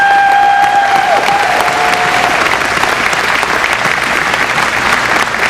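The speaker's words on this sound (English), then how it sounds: "how about a round of applause for all these guys coming out tonight?" Loud, dense applause from a crowd honoring veterans and guardians, continuous clapping that fills the space from start to finish, with a faint whistle-like tone fading early on.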